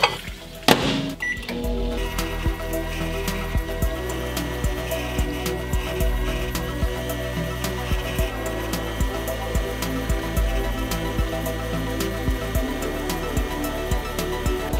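Steady mechanical hum of a running microwave oven heating dry ice in hot water, with a low droning tone and faint clicks and rattles throughout.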